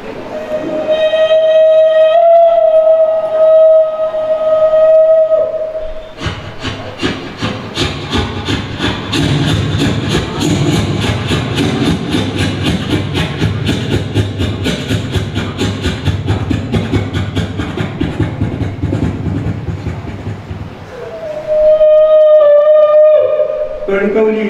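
A mimicry artist at a folk-art stage show voices a train for children: a long drawn-out whistle, then about fifteen seconds of rapid, rhythmic chugging, then the whistle again, loud and close.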